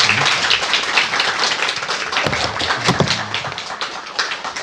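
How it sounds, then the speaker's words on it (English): A crowd applauding, dense overlapping claps that stay loud and steady throughout, then begin to thin slightly toward the end. "Let's give them a round of applause."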